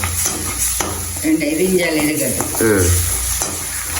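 Food sautéing with turmeric powder in a pan, a close continuous sizzle and stirring with a voice talking over it.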